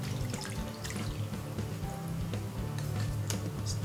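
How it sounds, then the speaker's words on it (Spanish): Liquids, a sauce and vegetable broth, pour steadily into a bowl of dry seitan mix, a continuous trickling, splashing stream close by with no talking. "ahora le incorporamos los líquidos"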